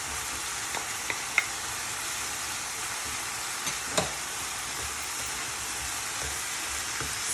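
Minced keema frying in a pan with added tomato puree and coriander seeds, a steady soft sizzle running throughout with a few faint clinks and stirs, no talk.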